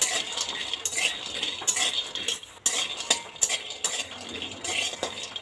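Peanuts dry-roast in a kadai without oil, the nuts rattling and scraping as a metal spoon stirs them in steady repeated strokes, with clinks against the pan, close and without talk.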